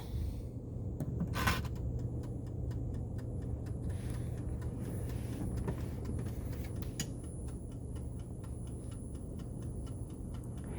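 An unbalanced laboratory centrifuge rocks and bounces on a counter, giving a steady loud mechanical rumble with irregular knocks and rattles throughout.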